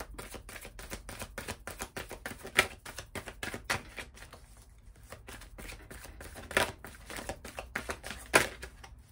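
Tarot cards are shuffled and drawn in a quick, close patter of crisp flicks and taps, with several louder snaps standing out along the way.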